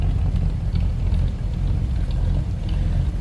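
A 1957 Cadillac Series 60 Fleetwood V8 runs at a steady idle, giving a continuous low, throaty rumble at close range with no talking.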